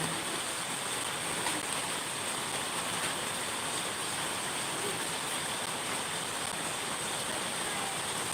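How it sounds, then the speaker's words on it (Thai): Steady, windless rainfall in a continuous dense hiss, loud and unbroken throughout, with no talk. "ที่นี่ฝนตก"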